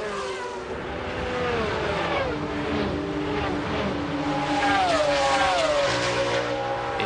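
Porsche 911 GT1 race cars at Le Mans in 1996 roar past in a continuous engine drone with rising and falling pitch as they pass, loud and sustained throughout, with no talk.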